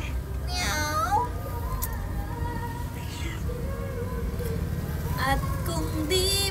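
A stray cat meows repeatedly for food, several rising and falling cries spread across the stretch, up close over low traffic rumble from passing vehicles.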